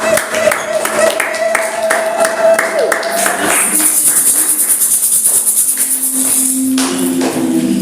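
A church congregation claps and cheers in praise, with a steady clatter of many hands and rising voices filling the room, while a voice carries over the noise.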